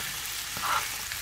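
Beans cooking with onions in a pan, a steady close sizzle with one brief swell of bubbling partway through.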